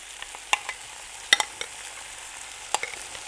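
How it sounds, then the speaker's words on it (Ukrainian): Sour cream and flour stirred into chicken paprikash in a pot, heard as a quiet wet stirring under a few sharp clinks of the utensil against the pot's side, close and without talking. "І все це разом перемішуємо."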